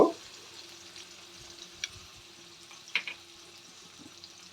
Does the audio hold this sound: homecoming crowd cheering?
no